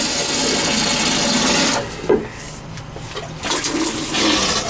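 A hand pump draws water out of a badly blocked toilet, a loud continuous rasping, sucking gush that breaks into sputtering gurgles and short slurps before resuming.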